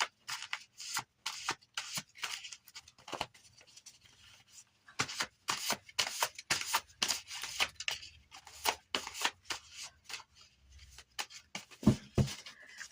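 Song cards for a Virgo tarot reading are shuffled close up, producing irregular papery riffles, taps and brushing swishes in quick clusters over about thirteen seconds, with quiet gaps between them.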